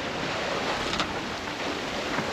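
Steady wind rush and surging sea waves on a sailboat in about 12-13 knots of wind, a broad continuous roar with a brief louder gust near the middle.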